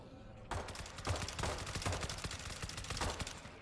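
Unsilenced pistol shots in World War Z on insane difficulty, firing as a rapid string of sharp reports amid zombie-fight din, fairly quiet overall and without voices.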